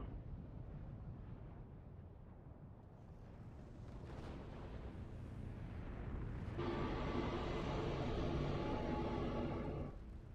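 Explosions in Final Fantasy XIV rumble low and heavy, building from a dull roar into a louder, brighter burst of blast noise with layered tones, then cutting off abruptly near the end.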